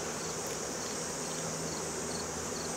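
Honey bees droning around an open split hive being inspected in September, a steady close buzz filling the air with a few higher passing whines and no talking.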